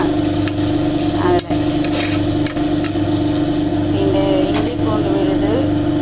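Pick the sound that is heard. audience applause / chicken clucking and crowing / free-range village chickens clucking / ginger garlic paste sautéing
ginger garlic paste sautéing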